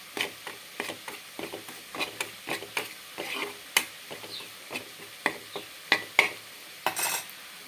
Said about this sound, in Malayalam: നമുക്ക് മല്ലിപ്പൊടി ചുമ്മാ ഒരു ചട്ടിയിലിട്ട് വഴറ്റിയെടുക്കും